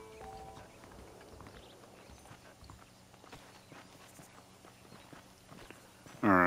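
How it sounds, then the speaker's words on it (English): Saddled horses in Red Dead Redemption walk with soft, steady clip-clop hoofbeats, faint and close, ending in a sudden loud tonal sound at the very end. "The horses are saddled up over here."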